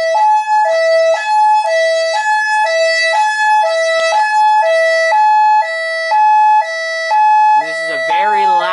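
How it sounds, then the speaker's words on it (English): A fire alarm system sounds a loud, steady high-low two-tone signal, alternating evenly in a repeating pattern close to the source, briefly broken near the end by another electronic tone. "this is a very loud and annoying high-low tone"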